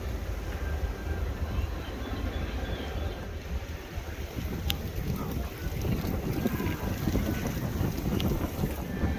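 Steady gusting wind at SeaWorld Orlando near roller coaster construction, a constant broad rumble buffeting the microphone throughout with no talk.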